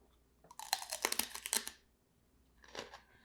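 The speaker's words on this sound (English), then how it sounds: "The crunch of the walnuts" Walnuts in a cherry cream cheese spread crunch close up as someone bites and chews, a dense burst of crisp crackles followed by a shorter second crunch, no talk.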